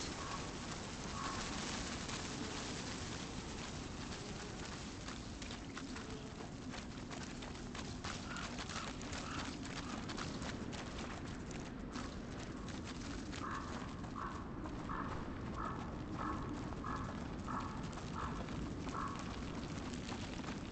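Steady clip-clopping of horse hooves in the video game A Plague Tale: Innocence, beneath a constant, dense background rumble, moderately quiet, with no voices.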